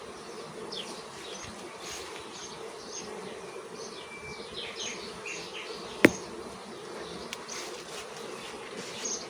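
Honeybees buzz around an open hive, a dense, even drone of many insects close by with individual bees passing, plus one sharp knock partway through.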